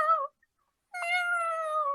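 A female cat gives two clear, tonal, oddly human-sounding meows close up, a short one and then a longer drawn-out cry after a brief silence.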